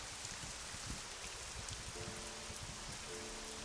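Steady rain falls throughout a scene in the video game Memento Mori, a constant hiss of drops spattering on surfaces, fairly quiet and even, with a faint low tone entering midway.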